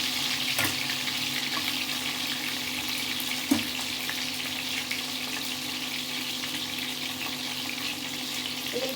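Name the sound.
prawns frying in oil, flipped over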